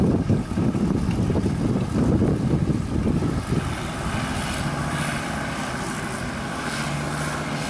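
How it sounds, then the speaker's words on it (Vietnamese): Inboard engine running in a composite boat hull with the engine smoking, a loud rough continuous drone with buffeting wind noise, easing to a steadier hum partway through. "Đây có cái vỏ Camposite đặt máy trong nha các bạn."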